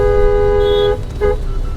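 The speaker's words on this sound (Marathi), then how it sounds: "जाम ट्रॅफिक आहे मुंबऱ्याच्या सील फाट्याला" Car horns honk in a jammed road traffic queue at Shil Phata near Mumbra, one long tonal blast and then a shorter toot over a steady engine and road rumble.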